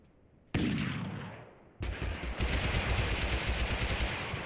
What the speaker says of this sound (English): they got some kind of slow firing weapon. Oh, I think it's the MP44.